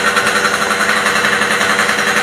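Loud, continuous rattling machinery noise from a roadside repair workshop, a steady jackhammer-like power-tool drone that fills the whole stretch without pause and without speech.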